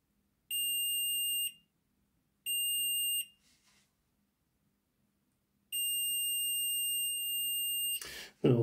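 Three steady electronic beeps from a multimeter continuity test across the poles of a Hornby Class 56 model train motor armature: two short tones, a pause, then a longer tone, loud and close, ending in a brief rustle.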